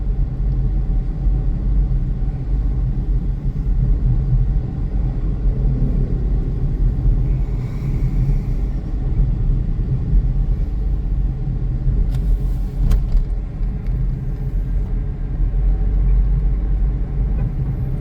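A car drives along a road between Cebu and Sibulan in the Philippines, easing its speed down, with a steady close low rumble of engine and tyres running continuously and a brief brighter hiss partway through.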